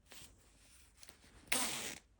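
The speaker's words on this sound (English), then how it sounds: "Is this the best zip in the world?" A magnetic zip is pulled in a few quiet, short bursts of scratchy rasping, the last and loudest one about half a second long, alone at close range.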